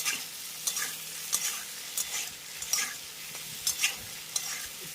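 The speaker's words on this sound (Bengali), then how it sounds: "পেঁয়াজটাকে আগে একটু এই সবজিগুলোর সঙ্গে ভাজবো" Chopped onion frying in a pan together with carrot, potato and pumpkin: a steady close sizzle broken by repeated scraping stirs at roughly one-second intervals, with no talking.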